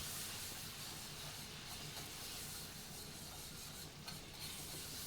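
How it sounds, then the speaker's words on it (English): Risotto with white wine bubbles and hisses in a pan while being stirred, a steady, faint close sizzle with soft scraping throughout and no talking. "We're gonna stir this."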